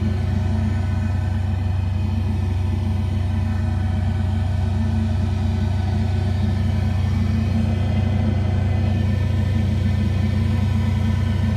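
An in-line duct blower fan fitted as an amplifier cooling upgrade, blowing air between heat sinks, runs steadily with a constant low rumbling hum and airy whoosh, close and continuous with no talking.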